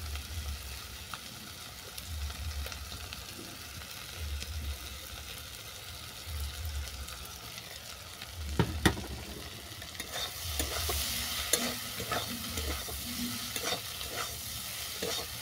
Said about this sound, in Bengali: তড়কা মশলাটাও ভালো করে আমি মিশিয়ে নিচ্ছি।